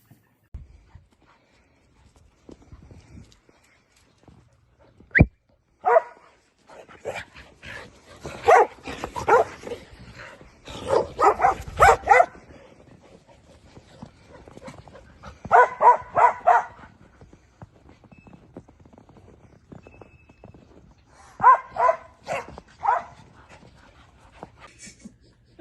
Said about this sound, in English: stay tuned for puppies in the snow and Blakely in the snow